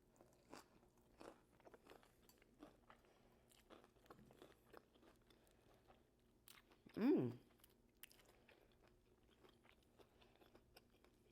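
Someone bites into a wild hog pulled pork sandwich topped with homemade coleslaw, giving one sharp close crunch followed by faint soft chewing in an otherwise quiet room.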